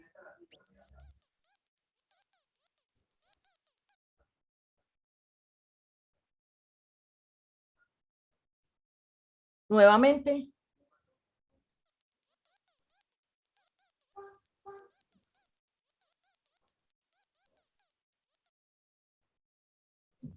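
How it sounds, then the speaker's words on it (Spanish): Crickets chirp in two long pulsing bursts, clear and steady, separated by a gap; a short spoken word and a few faint tones fall between them. "por acá dicen un grillo, una chicharra, una cigarra, grillos, la mayoría dicen grillos"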